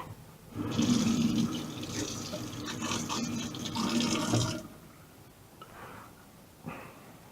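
Kitchen tap running water into a cooking pot for a vegetable and herb rice dish, a steady splashing gush for about four seconds, then stopping, followed by a few faint clinks and drips.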